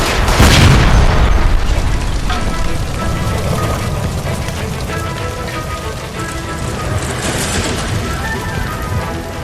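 A gas line blowing up in L.A. Noire opens with a loud boom, then gives way to a long rumbling, crackling roar of fire and debris that keeps going at a steady level.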